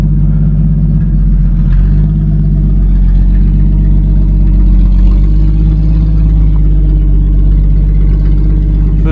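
A pre-war car engine, running for the first time since 1976, chugs steadily in first gear at close range, a loud, continuous low rumble with slight rises and falls in revs throughout.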